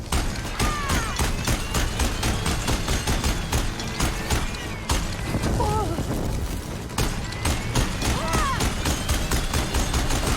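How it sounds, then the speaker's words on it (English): Sustained gunfire aimed at the player in Horizon Forbidden West, dense rapid shots with booms and whirring machine sounds, loud and continuous. A voice talks over it at times. "What the fuck is shooting me?"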